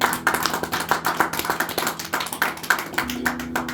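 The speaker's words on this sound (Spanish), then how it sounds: "¿Cuántos le pueden dar un fuerte aplauso al Señor?" A church congregation claps together in a fast, even rhythm, loud and close, over a low sustained musical drone that shifts near the end.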